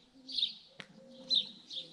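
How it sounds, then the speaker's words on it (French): Pigeon cooing outdoors at night, with soft coos rising and falling in a few phrases plus one sharp click; faint and alone, no talk. "il m'a nargué, ce pigeon là"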